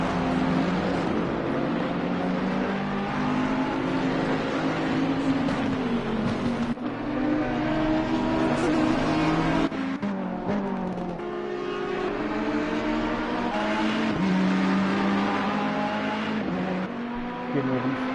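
Race cars lap the Brands Hatch circuit during qualifying, a loud continuous engine roar with several overlapping motors rising and falling in pitch as they accelerate and pass.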